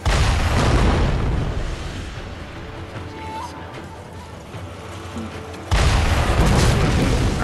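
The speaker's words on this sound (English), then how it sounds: "That's a guy with a cannon." An enemy cannon fires in Sekiro: Shadows Die Twice on the Ashina Castle grounds. A loud, heavy boom opens and rumbles for about a second, the sound fades through a quieter stretch, then a second blast hits abruptly near the end.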